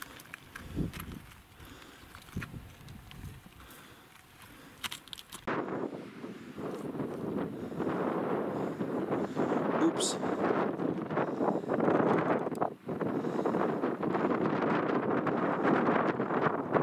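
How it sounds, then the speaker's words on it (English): Strong wind buffets the microphone on a mountainside in the Chocolate Mountains, a loud, continuous rushing roar that begins abruptly after a quieter stretch with faint sounds and a brief voice. "Again with the wind."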